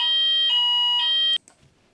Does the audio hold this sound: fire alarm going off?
yes